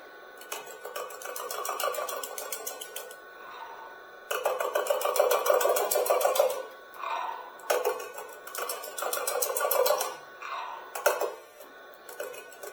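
A wood turning lathe at 400 RPM cutting wood, bursts of rapid rhythmic chattering scrape separated by short pauses, close and moderately loud.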